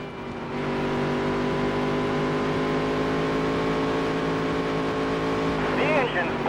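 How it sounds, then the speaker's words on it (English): A modified race car engine in NASCAR Dirt to Daytona drones loudly and steadily at high revs, then sputters and crackles near the end as it blows; a voice talks over it. "Pushed that engine a little too far that time."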